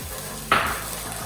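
Garlic hits hot oil in a pan with a sudden sizzle burst that fades into a steady, quieter fry, alone without talk.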